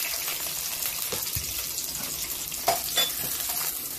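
Onion shallow-fries in about three tablespoons of oil for a green chilli chicken gravy, producing a loud, steady broadband sizzle with a couple of brief stirring knocks near the end.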